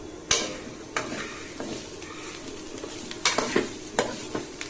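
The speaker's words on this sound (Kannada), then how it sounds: "ನೆಕ್ಸ್ಟ್ ಇದಕ್ಕೆ ಒಂದು 4-5 ಗೆಡ್ಡೆ ಬೆಳ್ಳುಳ್ಳಿಯನ್ನು ಹಾಕಿ ಹುರಿತಾ ಇದ್ದೀನಿ." Four or five garlic cloves fry in a pan for a North Karnataka karchikai recipe, with a steady close sizzle broken by several sharp scraping and stirring strokes against the pan.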